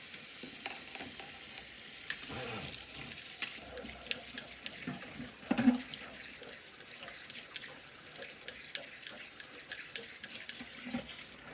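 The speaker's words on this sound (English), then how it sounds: "I'm gonna wash these blackberries off first." Blackberries rinsed under a running kitchen tap, with a steady splashing hiss of water and scattered clinks and rustles as the fruit is moved around, close by, with no talking.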